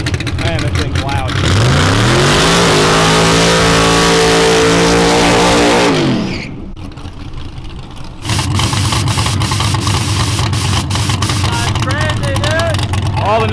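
A 1000hp nitrous drag car engine revs loudly, rising in pitch and holding a sustained roar before cutting off, then idling roughly with loud talk over it.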